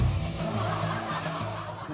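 Royal Enfield Bullet motorcycles ridden in a stunt entry on a talent-show stage, with a rider standing across two bikes: loud, close engine rumble and a scraping tyre skid throughout, with no talking.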